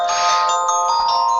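A phone ringtone plays loudly and steadily throughout with sustained bright electronic tones. It is near and continuous, with no talking.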